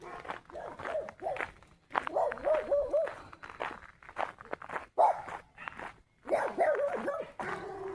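A dog on a nature walk gives bursts of barking and whimpering, mixed with footsteps as someone walks past a yard.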